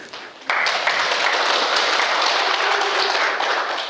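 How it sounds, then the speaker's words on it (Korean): An audience at a lecture in Ulsan breaks into applause after a brief quiet moment, a loud, dense clapping that holds steady for about three seconds. "이번 달인데 박수 한번 주시지 그래"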